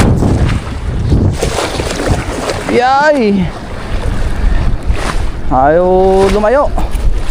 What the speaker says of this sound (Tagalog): Kasi malakas na ang hangin.